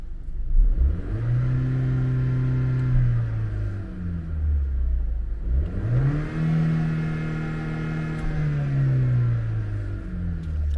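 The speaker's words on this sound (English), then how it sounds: "let me give you a bit more revs" A Vauxhall Insignia 1.4T turbo engine fitted with a Pipercross air filter revs up twice from a warm idle, each rise climbing steadily then falling back, close and loud with no talking.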